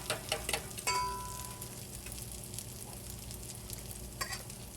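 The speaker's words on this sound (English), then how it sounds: "You want to hear that sizzle as soon as you put that bread down" French toast bread sizzles in a frying pan, a steady crackling fry running through the whole stretch with a few clinks and stirring sounds near the start and again toward the end, with no talking.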